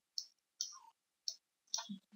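Four short clicks at uneven intervals, crisp and close in an otherwise silent room, like a mouse being clicked at a computer.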